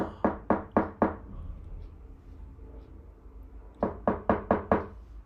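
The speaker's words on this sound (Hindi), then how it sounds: "कौन खटखटा रहा है जी? जैसे हमने सुना" Knocking on a door, two bursts of four and five quick, sharp raps separated by a quiet pause, close and clear with no talk.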